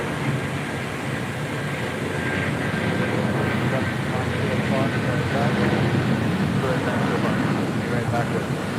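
A Lufthansa Airbus A350 at LAX roars steadily and loudly throughout as a continuous broadband jet rumble, with no pauses.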